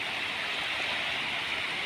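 Water spilling over a small weir near home after a typhoon's heavy rain, heard as a steady broadband rush that stays loud and constant throughout, with no voices.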